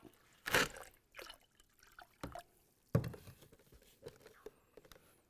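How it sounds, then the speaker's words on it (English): Water leaks from a hole in concrete, spattering and trickling in uneven bursts, faint and close, with quiet gaps between splashes. "See the water coming out?"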